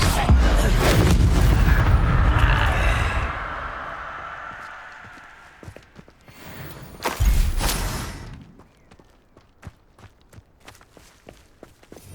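A spell cast in the Hogwarts Legacy video game lands as a loud whooshing burst with a deep boom, then fades into a second, smaller surge and scattered light impacts, with no talk alongside.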